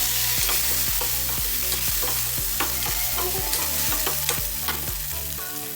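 Onions and tomatoes roast and sizzle in hot oil with mustard seeds for a chicken fry, with steady close frying hiss and regular stirring scrapes over soft background music, no talk.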